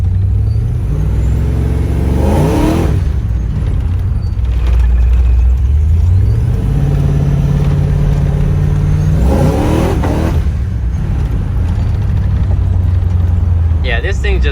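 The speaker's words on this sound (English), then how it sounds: "this thing just spins the tires like there's no tomorrow" Procharged LS3 truck engine revving hard in repeated bursts with rising whine as the tires spin, loud and close over a steady engine drone, with voices talking over parts of it.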